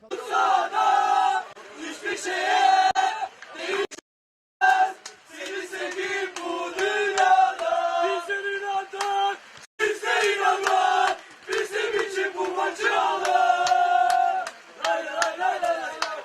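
Football spectators at a holiday tournament chant loudly in unison, with flares burning, sustained rhythmic crowd voices broken by a brief drop-out midway before resuming.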